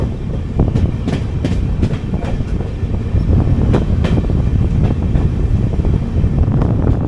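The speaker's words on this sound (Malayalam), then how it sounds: "കൊല്ലം ജംഗ്ഷൻ സ്റ്റേഷനോട്ട് കയറാൻ പോവാണ്." A passenger train pulls into Kollam Junction station, heard loud and close from on board, with steady rumbling, rhythmic clickety-clack over rail joints and wind noise throughout.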